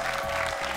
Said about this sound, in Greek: Ένα θερμό χειροκρότημα για τον Τζόρτζ.